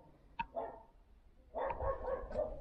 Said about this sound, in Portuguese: Olha lá o cachorrinho, que amor.